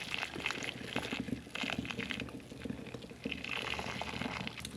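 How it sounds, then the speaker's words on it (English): Maple syrup boiled toward 225 degrees bubbles and pops in a dense, continuous, close-up simmer of liquid bursts, steady in level with no voices. "I boil to 225 degrees, which makes a thicker syrup."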